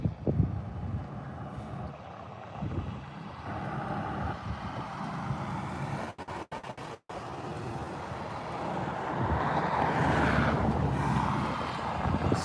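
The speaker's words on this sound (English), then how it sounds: "we're getting some wind here" Gusty wind buffeting an outdoor microphone near the SpaceX Starbase road closure at Boca Chica, Texas: a steady low rumble with a brief dropout, then swelling stronger and rougher toward the end, with no voices.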